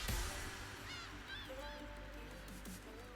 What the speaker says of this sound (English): Bird sounds.